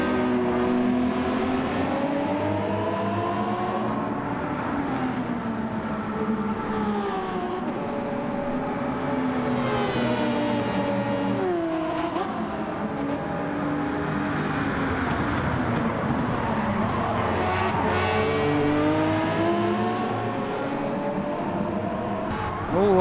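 Race car engines in Gran Turismo 7 during a daily online race, a Toyota hybrid among the field: loud, continuous engine drones that climb and fall through the gears as cars rush past.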